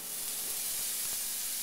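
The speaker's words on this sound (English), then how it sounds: "And I'll let it sizzle up here." Hamburger meat sizzles in a hot pan, a steady, close, broadband hiss that runs evenly throughout with no voices over it.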